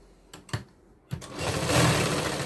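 A sewing machine stitching a katori blouse: a couple of clicks and bumps as the fabric is set, then the motor whirs up into a steady, loud, close running hum.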